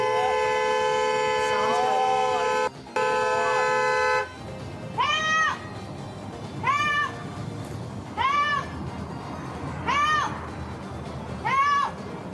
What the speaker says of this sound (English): I'm allowed to honk my horn all I want.